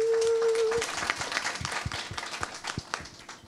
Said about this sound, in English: we'll just have a little round of applause for Mum